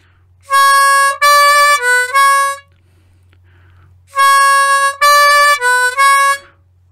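A lone blues harmonica plays a four-note phrase from a song that begins on the 5 blow, heard twice with a pause between, crisp and near with no talking.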